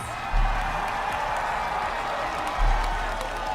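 A tournament crowd roars with cheering and applause at a Fortnite esports event, a dense, steady wall of noise with two louder swells near the start and toward the end.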